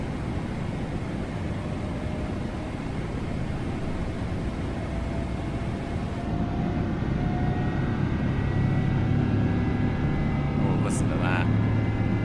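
Jet engines of a PMDG 777-300ER airliner in Microsoft Flight Simulator 2024 with a Boris Audio Works sound pack, a loud steady roaring drone with a low rumble that grows slightly stronger midway, a brief higher whine near the end.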